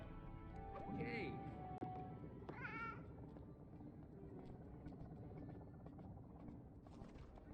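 A meow button fires a couple of short, cat-like meows over a low background hum, with speech-like sounds also present.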